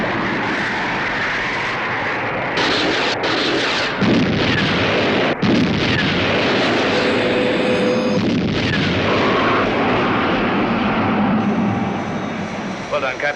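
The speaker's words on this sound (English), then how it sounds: "Missile launch" Missile launch in a science-fiction space attack scene: a loud, continuous roaring rush of engine noise with sharp bursts and blasts, mixed with aircraft-like drone and a voice speaking over it.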